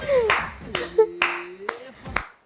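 Hands clap five times at an even pace, crisp and close, while a voice talks over them.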